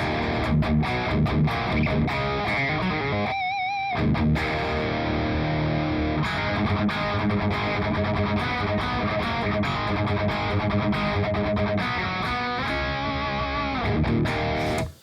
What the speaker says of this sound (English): we're getting kind of a nice, just kind of classic heavy metal distortion tone